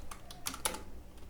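Keys clatter in a few quick bursts of typing on a computer keyboard while someone writes CSS code, close and fairly quiet, with no voices.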